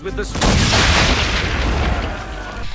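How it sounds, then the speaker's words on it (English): Ship cannons in the naval missions of Assassin's Creed III fire in a heavy, booming volley, one loud blast rolling out into a long rumbling tail for a couple of seconds. "the game offers naval missions where you will be able to control an entire ship, including the ship's guns and cannons"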